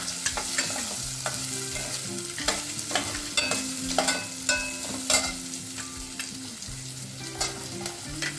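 Beans and carrots sizzle and fry steadily in a pan for vegetable pulao while a utensil stirs and scrapes through them in repeated close strokes, with no talking.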